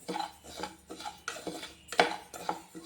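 Foxtail millet rice is stirred and roasted in a pan over a medium flame, with a spoon scraping and clinking against the metal in an irregular rhythm, close and fairly quiet.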